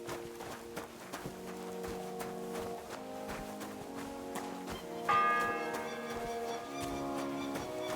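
A church bell tolls in Kingdom Come: Deliverance 2, a series of struck chimes ringing out in a steady rhythm with long ringing tones over a quiet background, with a brighter bell joining midway.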